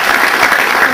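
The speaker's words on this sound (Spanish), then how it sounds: "Moisés, un aplauso para ti." An audience gives a brief burst of dense, steady clapping at a tribute ceremony honoring the first graduating class of Universidad Peruana Cayetano Heredia.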